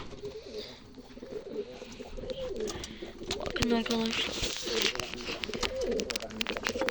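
Pigeons coo repeatedly close by while fighting, with fluttering and scuffling, as a person talks briefly over them.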